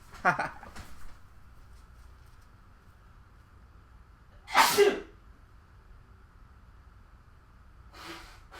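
Sneezing indoors during a live board game Q&A show, a man's sharp sneeze at the start and a louder, close sneeze in the middle, with a fainter one at the end, and near silence in between.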